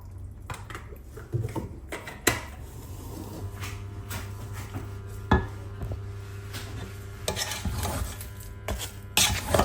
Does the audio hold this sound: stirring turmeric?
yes